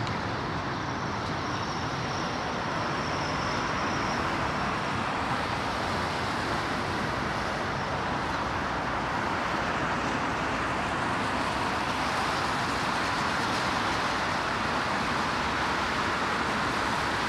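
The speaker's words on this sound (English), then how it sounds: "Oh, truck." A truck rolls past on a road beside Heathrow Airport in stormy weather, a steady broadband traffic roar with wind that swells and fades gently across the whole stretch, no clear voices over it.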